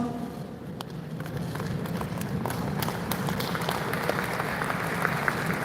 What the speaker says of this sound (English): Ladies and gentlemen, students, an enormous round of applause